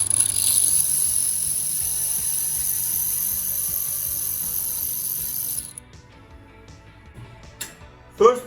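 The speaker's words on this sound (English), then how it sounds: "So I'm just starting my lathe machine." A jewelry lathe with a 0.5mm convex diamond tool cuts a millgrain pattern on a ring, giving a steady high whine that stops abruptly partway through, leaving near silence and a small clink at the end.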